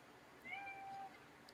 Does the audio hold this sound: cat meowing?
yes